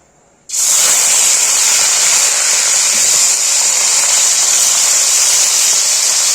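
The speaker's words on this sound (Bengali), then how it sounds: "এবার আমি মাছের মাথাগুলো ভেজে নেব" Fish heads dropped into hot oil burst into a loud, steady sizzle that starts abruptly and holds a bright, continuous hiss close by.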